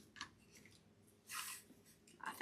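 Crunchy dried marshmallow bits like those in Lucky Charms being chewed close up, with soft crisp bursts, the loudest around the middle and again at the end, no talking.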